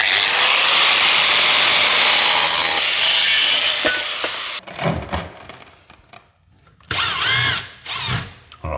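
A power tool cuts through floor tile during flooring installation in a tiny home, a loud high whining grind for several seconds, then stopping and restarting in shorter harsh bursts with quiet gaps between.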